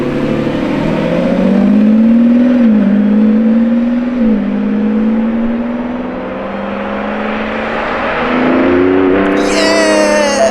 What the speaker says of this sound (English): It's definitely a V12